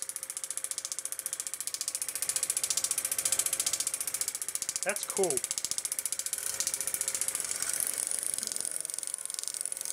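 Super 8 film projector mechanism run in reverse, a steady fast ratcheting clatter of gears and claw throughout, fairly close, with a brief spoken remark midway.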